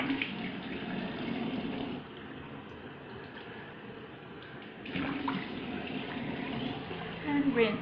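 Water running at a bathroom sink while mascara is rinsed off the face, a steady splashing flow with louder surges of splashing, heard close and alone.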